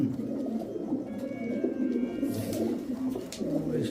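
Royal Teddy pigeons cooing steadily in low, throaty rolls, several birds overlapping close by, with a faint higher chirp or two in the background.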